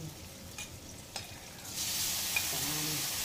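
Beef innards (mandunggo) frying in a pan, a steady hiss of sizzling with a few soft utensil taps, growing louder and denser partway through as more food hits the hot oil.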